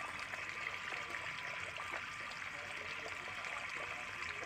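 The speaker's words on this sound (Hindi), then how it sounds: "ये देखो पानी छोड़ दिया मैंने, यहाँ भिंडी लगाई मैंने, पानी छोड़ रखा इसमें" Irrigation water flows steadily into a freshly sown okra field, a soft continuous trickle and gurgle heard faintly and alone throughout.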